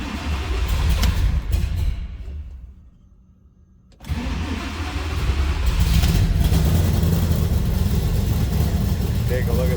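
The engine of a 1963 Ford Galaxie Country Squire wagon starts by push button, cranking, dropping quiet for a moment, then catching and settling into a loud, steady idle close by.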